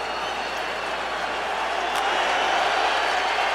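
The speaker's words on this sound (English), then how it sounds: "Crowd rising." A football stadium crowd at a 2005 Redskins–Cowboys Monday night game, a steady, dense roar of cheering and noise filling the whole moment, with a commentator's voice faintly underneath.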